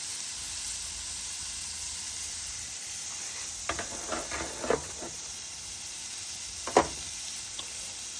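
Steaks sizzle steadily in a hot pan with butter, a continuous bright hiss with a few soft pops and clinks partway through; no talking.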